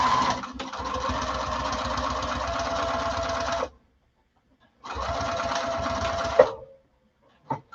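A sewing machine stitches a quarter-inch seam across fabric in two steady, close bursts of rapid rhythmic whirring separated by a pause, ending with a few small clicks.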